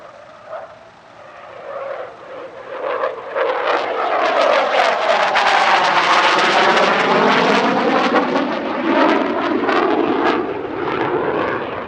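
Dassault Rafale fighter jet in a solo display at an air show, its engine roar swelling from faint to a loud, close pass overhead, holding loud, then easing off slightly.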